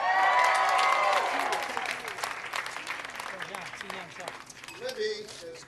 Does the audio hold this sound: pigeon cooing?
no